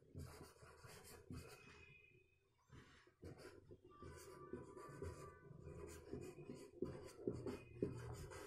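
A pen scratches across paper as a teacher writes by hand, producing quiet, continuous scratchy strokes with brief pauses, faint and close.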